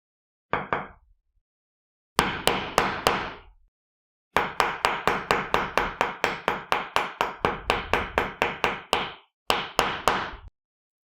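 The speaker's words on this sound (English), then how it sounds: "I'm going to hit in a circle like this in order to flatten the middle part equally onto the socket." Leather fan knot bracelet being hammered on an anvil: sharp, ringing metallic strikes in quick regular runs, a single hit, then a short burst, then a long steady series with brief pauses, loud and close with silence between.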